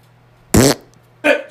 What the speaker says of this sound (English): She just squeezed the fart.